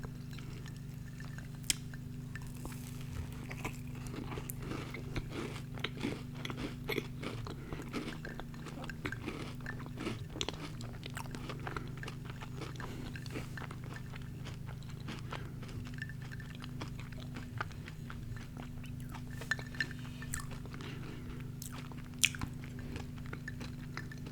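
Mini Crumbl cookies soaked in almond milk are bitten and chewed up close in soft ASMR style, with steady moist munching and occasional sharper crunches over a low constant hum and no talking.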